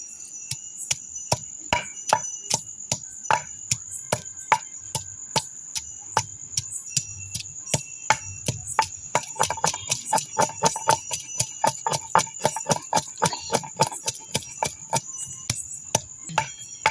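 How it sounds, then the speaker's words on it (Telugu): Ginger and garlic are pounded by hand in a village kitchen for okra curry, a steady run of sharp, close thuds that quickens in the second half, with a faint high whine behind it. "ఆ లోపల అల్లం వెల్లుల్లి అయితే దంచుకుందాం"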